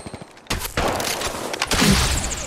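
Bursts of gunfire in the Apex Legends Mobile battle royale game, starting abruptly after a quiet moment and continuing as dense, loud overlapping shots with booming impacts.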